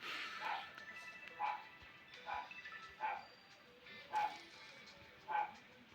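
A dog in the video game Homicide Squad barking repeatedly, six evenly spaced mid-distance woofs at about one-second intervals, moderately loud over a faint background hum.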